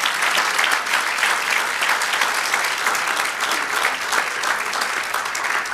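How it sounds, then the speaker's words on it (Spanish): A church congregation applauds steadily, a thick, even wash of clapping from many hands that holds at a moderate level throughout without any speech. "Si le va a dar un aplauso,"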